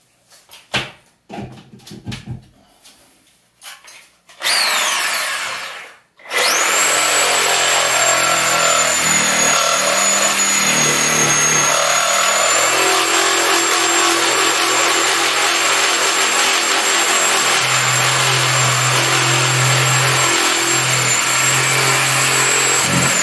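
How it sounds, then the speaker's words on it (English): Sawzall reciprocating saw cutting into a toilet waste pipe set in a concrete slab, a loud steady buzzing drone running continuously for most of the clip after a few brief starts and stops. "Sawzall"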